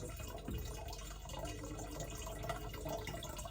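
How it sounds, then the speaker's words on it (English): Filtered stream water at a cabin runs steadily into a container, a quiet continuous trickle and gurgle with no voices. "I'm going to fill this up with water"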